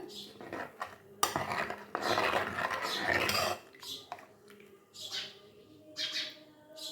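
Intermittent scraping and clinking of a utensil against a pot while stirring fish curry with tamarind water, in short bursts with quieter pauses between.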